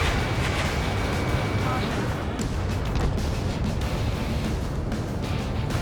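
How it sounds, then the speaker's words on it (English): Missile launches and explosions in the Ace Combat 7 combat flight game form a dense, continuous roar with rumbling booms, mixed with game radio chatter throughout. "Spare 15 launching missile."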